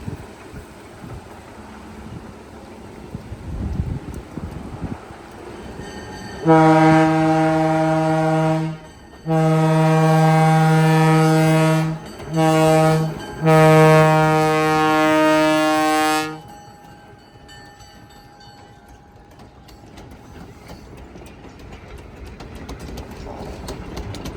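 A South Simcoe Railway heritage train passes a 6th Line crossing with a loud, sustained multi-note horn sounded in several long blasts and short breaks, then the rumble of the cars fading away.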